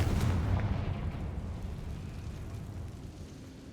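Explosive spells Bombarda and Confringo go off in the Hogwarts Legacy video game, a single loud booming blast up front that rumbles and slowly decays over several seconds.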